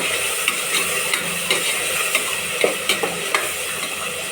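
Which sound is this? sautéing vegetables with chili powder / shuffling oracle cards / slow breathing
sautéing vegetables with chili powder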